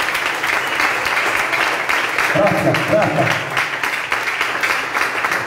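A church congregation at a worship service in Ecuador applauds steadily, a dense clapping crowd heard throughout with a voice speaking over it.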